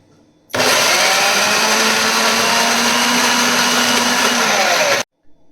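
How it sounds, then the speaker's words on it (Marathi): Electric mixer grinder coarsely grinding green peas for hara bhara kebab, a loud steady whir starting abruptly, running about four and a half seconds and then cutting off, close and alone. "आता बटाणा आपल्याला थोडासा जाडा भरडा मिक्सरमध्ये फिरवून घ्यायचा आहे"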